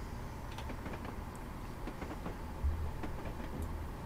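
Simulated train from the Fife Circle line in Train Simulator, a low steady rumble of the train running with faint rhythmic clicks of wheels on rail joints, fairly quiet with no talk.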